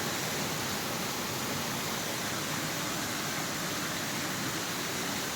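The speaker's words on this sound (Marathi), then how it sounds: "जबरदस्त वॉटरफॉल आहे" A powerful waterfall in the Sahyadri mountains roars as a dense, continuous broadband rush of falling water, loud and unbroken throughout.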